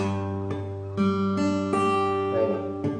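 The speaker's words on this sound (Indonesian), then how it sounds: "Kalau misalnya kita salah mencet itu pasti bunyinya seperti ini." Acoustic guitar chord played with a wrong fingering so the fourth string is muted, strummed about six times in a row, each stroke close and fairly loud with a short buzzy decay.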